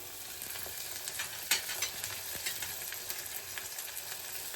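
Curry leaves frying in a pan for road-side style egg rice, giving a steady close-up sizzle and crackle with a few sharper pops and spatters, no voices.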